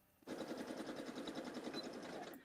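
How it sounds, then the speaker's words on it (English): Sewing machine running steadily during a late-night home sewing session, a continuous rapid mechanical whir with a fast stitching rhythm that starts abruptly after a brief quiet moment and holds at an even level. "Let me know if my sewing machine's too loud and I can turn my volume down."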